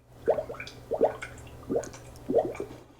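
Ocean scene sound effect from a Govee Table Lamp 2 Pro speaker: four evenly spaced liquid, bubbly drips or splashes over a low steady hum, moderately quiet, with no voices.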